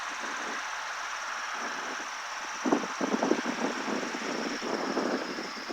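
A small STOL airplane's engine drones steadily while taxiing, with a continuous rough hum and faint flutter, close and unbroken.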